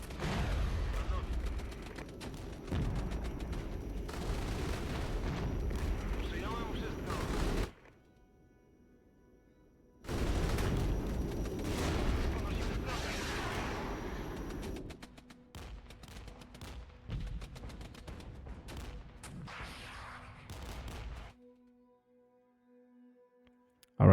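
US artillery in a real-time strategy war game fires in long, loud rumbling barrages of overlapping booms and blasts, broken by short quiet gaps.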